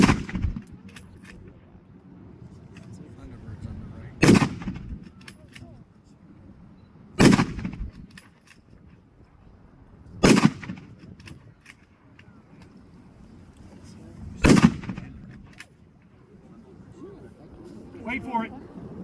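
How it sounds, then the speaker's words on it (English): An M1917 .30-06 rifle fires four loud single shots at a few seconds' spacing, each crack ringing out over an outdoor crowd's murmur and low background hum. "Mark will demonstrate the M1917 30-06"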